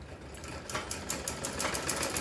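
Sewing machine stitching blouse fabric in short bursts, a quick rhythmic mechanical chatter that starts partway in and runs steadily, close and moderately quiet.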